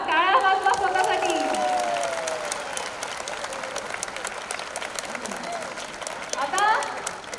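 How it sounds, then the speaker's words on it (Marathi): At an International Yoga Day event, an audience bursts into loud applause that gradually thins into scattered clapping, then swells briefly again near the end, with some crowd voices mixed in. "आता जोरात क्लॅप करा. टाळ्या वाजवा स्वतःसाठी."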